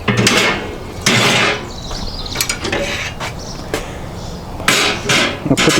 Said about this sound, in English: I'll put the grill grate back on there.